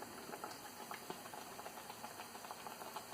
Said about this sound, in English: Dip that in. There you go, and then into the fryer it goes.